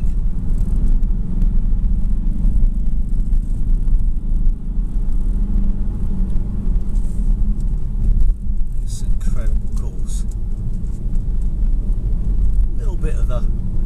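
Kia Stinger diesel car on the road, its steady low engine rumble and road noise continuous and close throughout, with some wind buffeting on the microphone.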